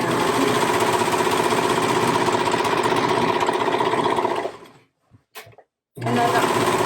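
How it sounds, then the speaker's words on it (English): A serger overlocks the seams of a crew neck sweatshirt fabric, a fast, buzzing mechanical run that stops briefly with a couple of small clicks before the whirring starts up again, heard close up and alone. "So all I'm going to do is serge,"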